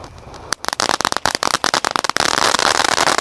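A 4-inch Konik Fountain firework ignites with a sharp burst, then a rapid run of loud, close crackling pops that thickens into a continuous fizzing spray.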